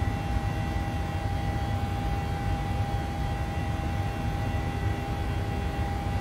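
Steady broadband engine and airflow roar of a PMDG Boeing 737 jet climbing after departure in Microsoft Flight Simulator, constant and unbroken with a faint steady tone throughout, no voices.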